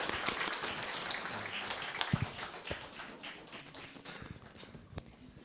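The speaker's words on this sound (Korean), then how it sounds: "다시 한 번 더 뜨겁게 박수를 한번 쳐주시면 감사하겠습니다." A church congregation claps during a Sunday service, a fairly faint, scattered patter of hands with a few sharper individual claps standing out, continuing for several seconds.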